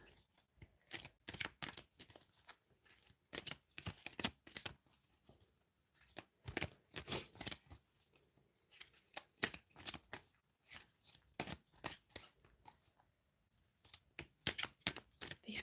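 Tarot cards shuffled by hand in repeated quick riffling bursts with short pauses between them, close and fairly quiet, continuing for the whole stretch without speech.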